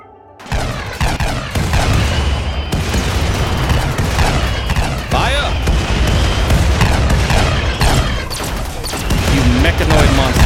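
RimWorld battle against mechanoids with continuous gunfire and booming artillery, a loud dense barrage of shots and explosions layered over one another, with voices talking underneath.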